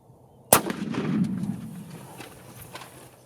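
A single hunting rifle shot fired at a range outdoors cracks sharply and loudly, followed by a rolling echo that slowly fades over a few seconds.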